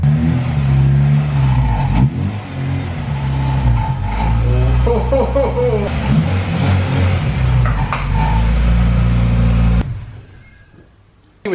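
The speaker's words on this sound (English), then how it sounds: "She revs high under start." A 1992 Honda Civic VTi engine starts, roars and revs hard at close range for several seconds, rising and falling, then cuts off abruptly into near silence.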